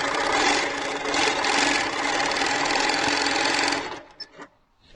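A sewing machine threaded with Primo Soft thread runs at a steady, dense mechanical hum for about four seconds, then stops, leaving a few faint clicks and handling noises.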